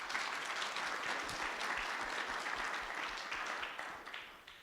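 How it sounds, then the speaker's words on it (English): Audience applause at a Guide Dogs for the Blind class graduation, steady dense clapping from a crowd that holds for several seconds before tapering slightly toward the end. "I just want to give a round of applause for all of you guys."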